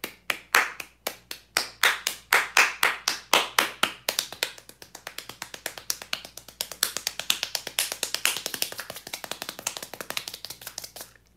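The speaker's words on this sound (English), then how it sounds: "Guys, clap marathon." Hand clapping, a long rapid marathon of claps alone with no talk, loud and close, starting in strong separate claps and speeding into a denser, slightly softer flurry that keeps going to the end.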